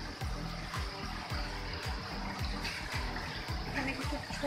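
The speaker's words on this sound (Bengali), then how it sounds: "একটা কৃত্রিম ঝর্ণা বানানো" Water from an artificial waterfall in a fish aquarium at Cox's Bazar, Bangladesh, splashes in a steady, fairly loud rush with a continuous close wash of falling water and no voices.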